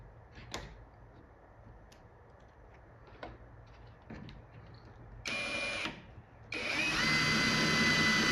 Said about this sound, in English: let's throw a screw in this